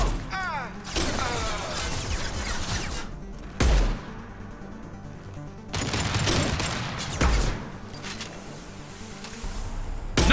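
Gunfire in Mass Effect 2 gameplay: dense rattling bursts of automatic weapon fire with sharp heavy shots and booming impacts, loud and close, broken by short lulls.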